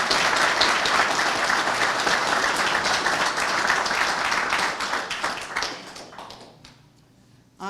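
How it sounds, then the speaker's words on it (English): Audience applause for honorees at a men's health summit at Whittier Street Health Center in Boston, a dense steady clapping from a crowd that thins out and fades near the end. "Let's give them a round of applause."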